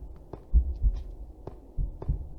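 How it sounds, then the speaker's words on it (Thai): A heartbeat effect from the horror video game The Asylum thumps in low, muffled double beats, steady and close, playing alone against quiet background hum. "หัวใจเต้นตึกตึกตักตักเลยนะครับ ทั้งในเกมทั้งในชีวิตจริง"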